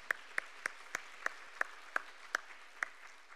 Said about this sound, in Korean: 아멘이신 분들은 한 번 더 박수